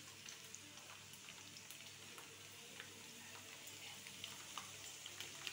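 Chicken frying in a cooking pot gives a steady, quiet hiss and crackle with scattered small pops, heard close and alone, with no one speaking.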